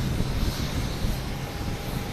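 Delta Airbus A321neo jet airliner at Boston Logan Airport, a continuous broadband engine roar from a distance, steady and fairly loud throughout with no talking.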